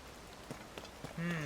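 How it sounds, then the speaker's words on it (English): Rain patters in the open world of Tears of the Kingdom, a soft continuous hiss with a few scattered heavier drops. Near the end a low tone swells in over it. "So how am I supposed to get up there with all this rain?"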